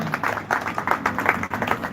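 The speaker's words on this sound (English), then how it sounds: "With a round of applause" Audience applause at an art competition and exhibition event, a dense steady patter of many hands clapping at close range, filling the moment without pause.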